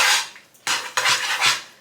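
A utensil clanks and scrapes against a pot while mac and cheese ingredients are mixed, several loud close bursts of metallic stirring separated by brief pauses.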